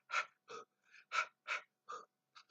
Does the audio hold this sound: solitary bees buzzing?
no